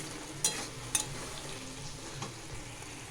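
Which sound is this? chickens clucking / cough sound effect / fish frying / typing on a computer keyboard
fish frying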